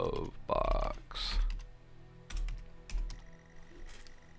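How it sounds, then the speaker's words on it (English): Typing on a computer keyboard to enter a command in a text adventure game: a few quick clusters of key clicks, close and moderately loud, with brief breathy mouth sounds between them. "so we'll type look in glove box"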